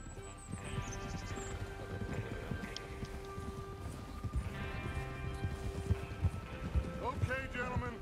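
Horses in Red Dead Redemption 2 clip-clopping along with scattered hoof thuds and an occasional whinny, set under game music and voices, moderately loud.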